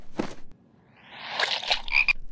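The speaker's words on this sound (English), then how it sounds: "Frogs!" Frogs croaking in a cartoon show, a short burst of rough croaks followed by a louder rising, warbling run of croaks and chirps, heard alone without talk.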